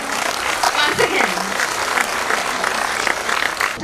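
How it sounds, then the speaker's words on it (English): An audience at a North East fusion carnival applauds to welcome a guest, a dense wash of clapping sustained through the moment with crowd noise and voices blended in. "give him a warm round of applause and welcome him once again."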